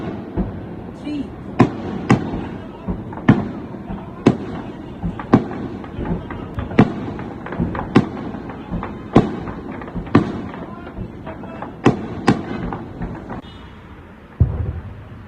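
Repeated explosions and sharp blasts during a ceasefire violation in Jammu and Kashmir, about a dozen loud bangs spaced irregularly over steady background rumble, with a heavier thud near the end.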